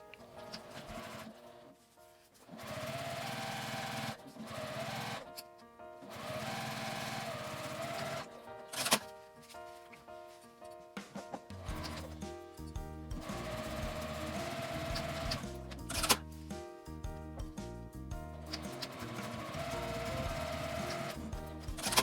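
A sewing machine runs a 1 cm seam end to end along the bottom of a box pouch's outer fabric. Its steady mechanical whir comes in several runs, broken by short pauses, and stays close and clear with no talk.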